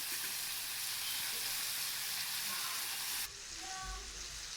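A steak sizzles steadily in a hot pan as it is basted, a loud, constant frying hiss that drops slightly in level near the end.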